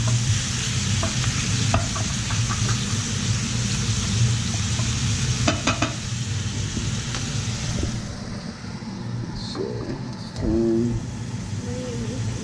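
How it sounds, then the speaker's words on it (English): Meat browns in a pan for an Italian gravy-style meat sauce: a steady close sizzle runs throughout, broken by occasional scraping stirs, with a faint voice near the end. "we're browning up some of the meat here"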